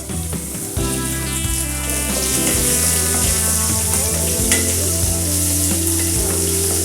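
Small shallots, about eight of them, drop into hot oil and set off a loud, continuous close-up sizzle that stays strong throughout, with faint stirring and a steady hum underneath and no voices.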